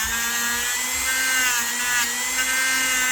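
A wire wheel scrubs a vintage Hammer Brand Barlow pocket knife, giving a continuous high whirring grind with a steady motor hum underneath, loud and unbroken throughout.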